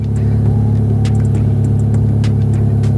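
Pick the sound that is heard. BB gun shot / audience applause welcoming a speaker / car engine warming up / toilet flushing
car engine warming up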